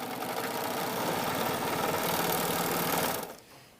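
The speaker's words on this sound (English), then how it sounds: "we're going to sew the straps on. Just serge them on." A serger runs at speed, stitching straps onto a swimsuit with a dense, fast mechanical whir, loud and steady, then winding down abruptly near the end.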